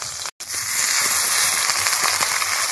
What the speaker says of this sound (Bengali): তেল গরম হয়ে গেছে, এবার আমি করে রাখা পাতুরিগুলো একটা একটা করে দিয়ে দেবো